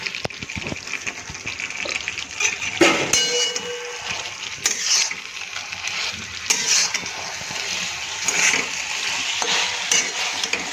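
Potato fries tossed into Indo-Chinese chilli potato in a pan, with continuous frying sizzle, clattering spatula strokes and scraping as everything is mixed, loud and close.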